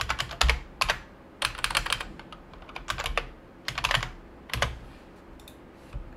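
Typing a command on a computer keyboard: quick bursts of crisp, close key clicks in irregular clusters separated by short pauses, with no talking.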